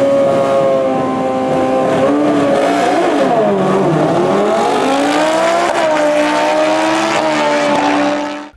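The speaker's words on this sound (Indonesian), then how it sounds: "Di sini ada motor balap." Racing motorcycle engine revving loudly and close, pitch dipping then climbing and holding in sustained high whining tones, alone without talk.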